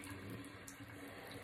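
A tap runs while someone brushes their teeth, a soft, steady rush of flowing water heard close and quiet with no voices.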